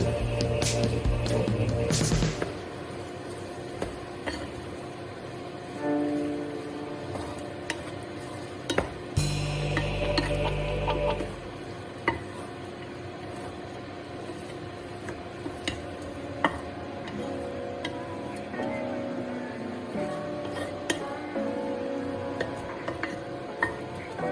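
Spinach being stirred in a pan while cooking palak paneer in a travel kitchen in Vietnam, soft scraping and tapping of a utensil against the pan with faint sizzling, a louder clatter early on.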